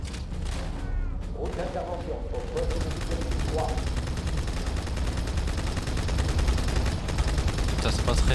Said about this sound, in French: Par contre ça marche bien la double mitraillette.